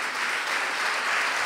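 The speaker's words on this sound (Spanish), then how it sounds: "Dan un aplauso al Señor" A church congregation applauds, producing dense, sustained clapping that fills the space evenly from start to finish.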